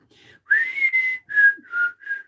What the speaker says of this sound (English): I heard whistling and was looking around me trying to figure out who was doing